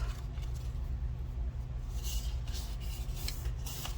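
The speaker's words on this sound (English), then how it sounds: "I am going to burnish these score marks" A tool rubs firmly along the score marks of a paper gift box, giving quiet papery strokes that grow into short, bright swishing passes in the second half.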